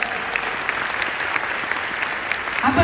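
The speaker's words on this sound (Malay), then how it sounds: "Satu tepukan untuk MW kawan-kawan." Applause from an audience at a motivational business event, a steady dense wash of clapping held throughout, fairly distant and even, with a faint voice rising near the end.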